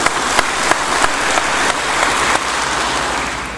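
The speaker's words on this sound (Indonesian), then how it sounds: "Tepuk tangan lagi." A second, louder round of audience applause at a military command event in Gorontalo, a dense, sustained wash of clapping with a few sharp claps above it.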